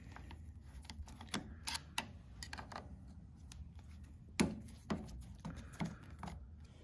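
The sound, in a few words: loosening clamping screws on a sewing machine linkage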